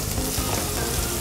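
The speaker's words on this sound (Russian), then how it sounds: "Никогда не жарил лаймы." Lime halves fry flesh-side down in a hot grill pan, giving a loud, continuous close sizzle with no talk over it.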